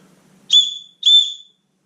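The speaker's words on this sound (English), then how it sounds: "The whistle, which it gets pretty loud." Two loud, shrill blasts from a small plastic survival lanyard whistle, each about half a second long with a short gap between, close and alone with no other sound.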